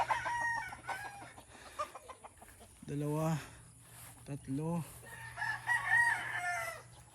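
Chickens cluck and a rooster crows intermittently, close by, while a person talks over the farmyard sounds.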